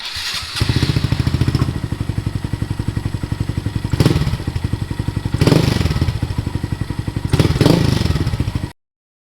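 A Honda Grom motorcycle with a new exhaust idles with a steady rapid thumping, revving up in three short bursts, close and loud, before cutting off abruptly.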